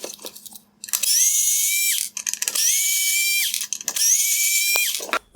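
Power driver backing out T15 Torx screws from a 2016-2020 Tesla Model X LED headlight: three loud, close, whining bursts of about a second each, separated by brief clicks and pauses.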